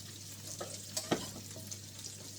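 Macaroni cheese sauce with bacon stirred in a pan, a few soft scrapes and clicks of the utensil over a steady low sizzle, close up with no voices.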